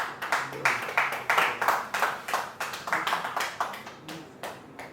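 A church congregation claps in a rapid, uneven burst of many hands. The applause is fairly close and lively with sharp individual claps, then it thins out toward the end.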